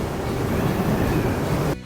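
Strong wind blasts across the microphone outdoors while riding a Veteran Patton electric unicycle, a loud continuous roaring rush that cuts off abruptly near the end.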